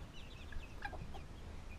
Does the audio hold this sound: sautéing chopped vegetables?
no